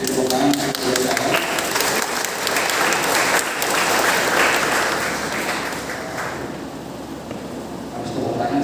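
Sustained applause from a neighborhood meeting audience at an RW 07 neighborhood association chair election in Sunter Jaya, loud and dense throughout, tapering slightly toward the end before swelling again.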